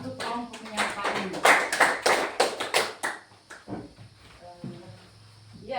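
An audience applauds a presenting group at an indoor sharing session, with a burst of lively clapping for about three seconds before it quickly thins out and a voice begins speaking.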